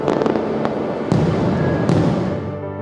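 Dense crackling fireworks bursting in rapid succession, several sharper pops standing out over a continuous rumble before fading at the end, loud and near.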